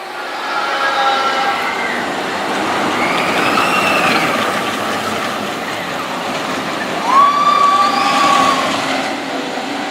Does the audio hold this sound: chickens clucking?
no